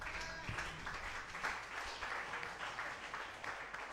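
A church congregation at a French-language service applauding, with steady sustained clapping from many hands throughout, fairly faint and distant, mixed with a little murmuring.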